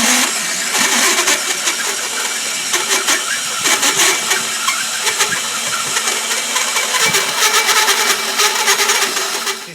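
A power drill with a hole saw cuts through an exhaust baffle, a loud, harsh, continuous grinding whir with rattling metallic chatter and slight surges in intensity throughout, close up and with no talking.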